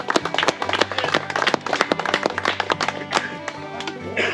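Crowd applause at a fishing contest, greeting the angling club's president: dense, continuous clapping from many hands, fairly close and steady for several seconds before thinning slightly near the end.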